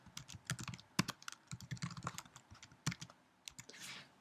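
Fingers type administrator login credentials on a computer keyboard: a quick, close run of light clicking keystrokes with uneven rhythm and a final louder tap.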